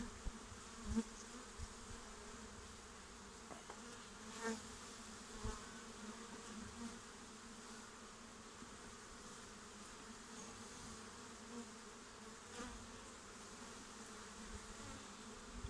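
Honeybees buzzing steadily around an opened beehive during a honey check, a dense continuous hum close by that stays fairly even throughout with no talking.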